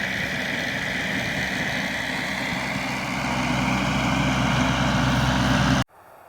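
A tractor engine idles steadily in a field on a market garden being tilled, a loud continuous low rumble that holds for about six seconds before cutting off abruptly.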